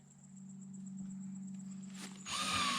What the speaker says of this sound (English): And then 2-inch hole saw. Do not drill this fast.